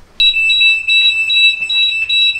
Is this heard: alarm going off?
yes